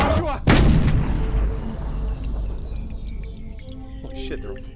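A gun fires in a tense confrontation, one sharp loud blast ringing out and decaying into a long reverberant tail, followed by fainter clattering and ringing sounds nearby.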